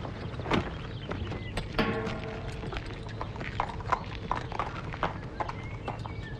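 Hooves of a well-groomed farm horse clip-clop at close range in a quiet, irregular walking rhythm, with a few soft thuds and a faint bit of background movement.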